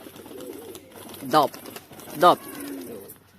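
A pure white, long-bodied pigeon with white eyes coos in two short, throaty bursts about a second apart, close to the microphone, while someone talks nearby.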